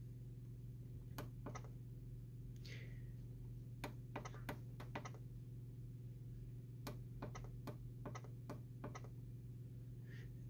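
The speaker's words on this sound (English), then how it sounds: "So you just press one of these keys" Keys pressed on the control panel of an HP Officejet 4630 printer while entering a Wi-Fi password, a series of faint, sharp clicks in irregular clusters over a steady low hum, with no talking.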